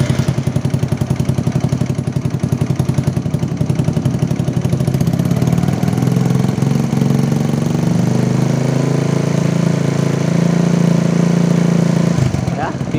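A motorcycle engine idles steadily at close range after being started during a charging-system test with LED lights fitted, a continuous low chugging with slight rise in pitch partway through, under faint background noise.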